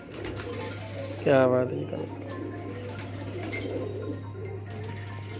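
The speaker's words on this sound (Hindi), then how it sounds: "सर टैडी कबूतर हैं सारे" Teddy pigeons give a short, close cooing call that rises briefly above a steady low hum, with people chatting before and after it.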